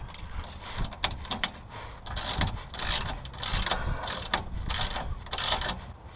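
A ratchet wrench tightens exhaust clamps with a 15 mm socket while a Borla exhaust is fitted to an SRT8 Jeep, giving repeated bursts of close, rapid clicking separated by brief pauses.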